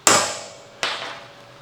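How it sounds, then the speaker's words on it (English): A hammer strikes a metal hex piece twice to set a mark while a roller skid is being fabricated. Each blow is a sharp, ringing clang that fades slowly, close and loud, with no talking. "So now I'll be able to smack that with a hammer"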